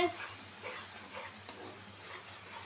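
Spice paste sizzles and fries steadily in a pan for a Bangladeshi dried-fish curry, a soft, continuous crackle at low level with faint stirring, no voices.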